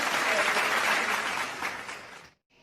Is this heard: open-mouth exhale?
no